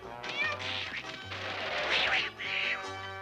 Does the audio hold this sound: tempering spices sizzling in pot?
no